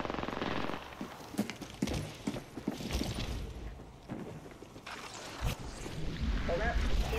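Rapid bursts of automatic gunfire in a battle royale shooter game, loud and close, with sharp repeated shots and machine-gun rattles layered over game effects and a voice talking.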